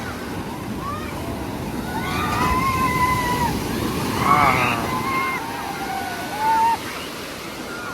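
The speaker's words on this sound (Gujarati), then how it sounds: "મોજા તો જો કેટલા આવે છે" Sea surf washing onto the shore during a Ganesh idol immersion festival, a steady broad rush of waves with a louder swell midway, under a crowd's voices and some nearby talk.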